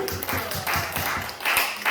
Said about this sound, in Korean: 하나님의 영광의 박수